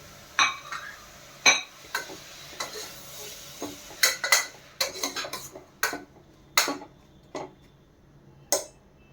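Onion, tomato and green chilli are sautéed together in a pressure cooker for quick sambar, heard as a series of sharp metallic spoon clinks and scrapes against the pot at an uneven pace, close up with no talking.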